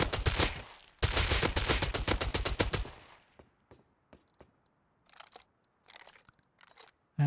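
Suppressed gunfire in the Rust video game: two dense bursts of rapid, muffled automatic shots fill the first three seconds, followed by a few scattered faint clicks and taps.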